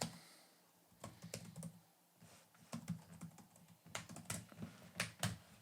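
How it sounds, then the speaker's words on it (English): Quiet keyboard typing in short irregular bursts of clicks, close by, with pauses between runs of keystrokes. "Sorry if you hear me typing."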